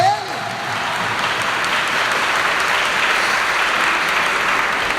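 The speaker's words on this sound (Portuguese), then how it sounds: "Pode aplaudir." A congregation applauds during a sermon, a dense, loud, continuous burst of clapping that swells at the start and holds steady, with a brief voice audible at the very beginning.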